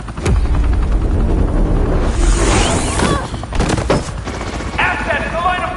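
Police open fire in Batman: The Telltale Series, with rapid bursts of gunshots and automatic fire, loud and close, mixed with game effects and character voices.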